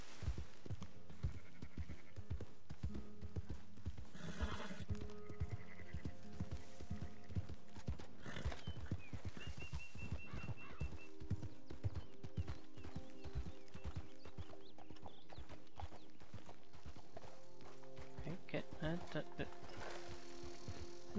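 Horse hooves clip-clop steadily in Red Dead Redemption 2, a rhythmic stream of close hoofbeats with occasional snorts and game sounds, while someone talks over them.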